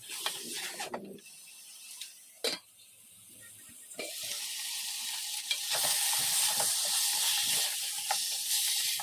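Chicken sizzles and hisses as it sautés in a hot pan while a utensil scrapes and stirs, with a few sharp clanks against the metal.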